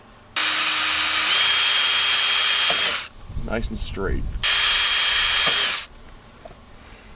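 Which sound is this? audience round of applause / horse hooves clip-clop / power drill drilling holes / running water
power drill drilling holes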